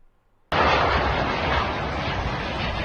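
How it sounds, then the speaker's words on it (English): A firebomb-like explosion in war footage bursts in suddenly after a moment of quiet, then sustains as a loud, broad roar that fills the rest of the moment. "Now, that explosion that you just saw was basically this."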